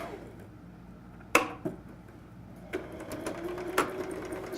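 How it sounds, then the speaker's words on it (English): A sewing machine running a straight top stitch along a curtain, with short bursts of whirring and clicking and a few sharp mechanical knocks, fairly close in a quiet room. "I'm just going to sew like I normally would."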